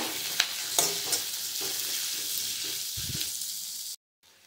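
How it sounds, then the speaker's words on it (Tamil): Onions and a sprig of curry leaves sauté in a pan, a continuous soft sizzle with a few scraping stirs, close by, ending abruptly in silence. "இப்போ இது எல்லாத்தையும் சேர்த்து நல்லா வதக்குங்க"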